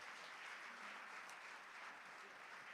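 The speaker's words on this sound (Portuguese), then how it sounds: "Vamos aplaudir Jesus." Worshippers applaud together in a church service, a soft, distant wash of many hands clapping steadily throughout, faint and even with no talk heard.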